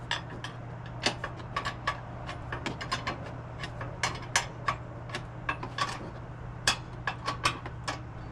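Wrench ratcheting as a bolt is tightened on a Nilight RV bumper hitch receiver: irregular quiet clicks and ticks in short runs over a steady low hum, close by.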